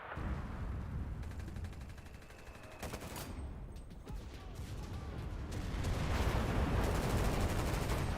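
Rapid automatic gunfire in a video game, weapon recoil audible as a steady rattle of shots that stops and starts, with muffled blasts, building to a louder, denser burst toward the end.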